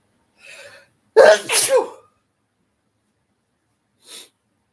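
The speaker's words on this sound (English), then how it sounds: "Right in time to bless me for my sneezes." A person sneezes: a soft inhaling lead-in, then a loud, close burst of sneezing, followed by silence and a brief faint sniff.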